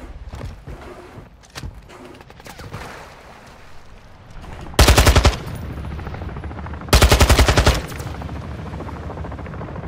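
Loud automatic gunfire from the video game DMZ: two sustained bursts of rapid shots, each lasting about a second, standing out over a busy, lower-level background of game noise.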